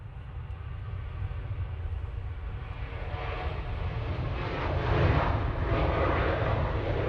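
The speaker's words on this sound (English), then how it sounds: "Ryanair going off to Barcelona" Ryanair airliner taking off from Manchester Airport for Barcelona, a broad, steady jet roar that swells gradually, growing loudest toward the end with no voices.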